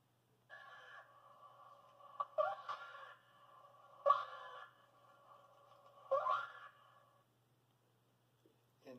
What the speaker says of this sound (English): Here's the sound of a cub in distress.